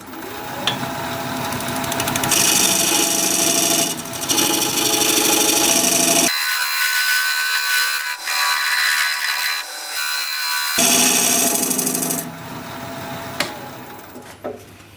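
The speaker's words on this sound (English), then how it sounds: "I'm going to use this 1-inch skew to put a dovetail on this side." A 1-inch skew chisel cuts a dovetail into a spinning juniper wood blank on a lathe, giving bursts of scraping, hissing cutting noise that stop and restart several times with brief quieter gaps.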